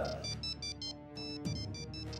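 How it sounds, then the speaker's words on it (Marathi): A mobile phone's ringtone plays in a repeating electronic pattern of bright pulsing tones, fairly quiet and on its own. "ही तर नंदूच्या फोनची रिंग आहे."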